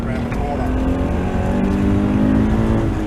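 A race car engine pulls out of a corner with a loud, sustained drone that rises gradually in pitch as it accelerates, with the driver talking over it.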